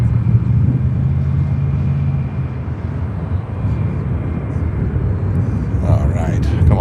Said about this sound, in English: the 777-300 from Qatar coming in on 10 left